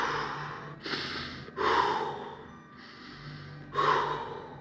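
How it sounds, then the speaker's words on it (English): Slow, deliberate conscious breathing close up: three long audible inhales and exhales, airy and unhurried, with quiet pauses between them and no talking. "That's consciously breathing."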